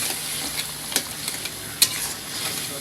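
Sundarban crab curry, tel jhal style with cumin and Bengali garam masala, sizzles steadily in a pan while a utensil stirs and scrapes with a few sharp clinks, close and continuous without speech.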